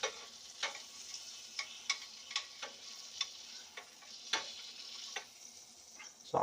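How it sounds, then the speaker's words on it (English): Filet mignon searing in oil and butter in a pan, a quiet steady sizzle broken by frequent sharp pops and crackles of spattering fat. "we want to take every side of that beautiful filet and sear every side"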